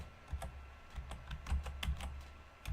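Quiet, close typing of a folder name on a computer keyboard, a quick uneven run of crisp key clicks with short pauses between bursts.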